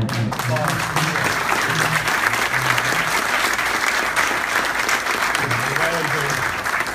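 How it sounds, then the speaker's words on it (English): An audience applauds an award honoree, a high school athlete standing with his parents: a loud, steady wash of clapping from many hands, with voices chattering and calling out underneath. "We're going to give a little applause"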